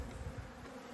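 Honeybees at a hive bringing in nectar give a steady, close, dense buzzing hum with no pauses over a short moment.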